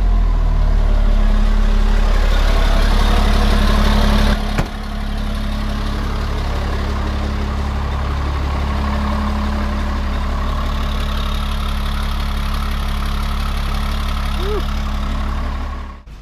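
Old Ford F350 diesel on a cold 20-degree day firing up and settling into a steady idle, a loud deep clattering rumble after a heavy start burst, running close and unbroken until it cuts off.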